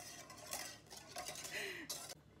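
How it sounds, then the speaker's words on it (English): Spoon stirring a sugar mixture in a bowl while making crumpets, a few close clinks and scrapes against the bowl in short bursts, fairly quiet with no one talking. "Then you take a teaspoon of sugar, put that in there as well. And then you basically just mix that."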